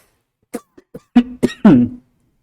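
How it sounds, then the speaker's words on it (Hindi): A few short coughs, close and distinct, starting as small hacks and building into a couple of heavier, throaty coughs before silence. "थोड़ी खांसी आ रही है।"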